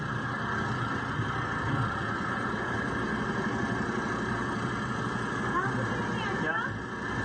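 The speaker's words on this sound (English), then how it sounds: "Can you turn the engine off so I can hear you?" A car engine idles in a steady low rumble throughout while a person nearby speaks over it.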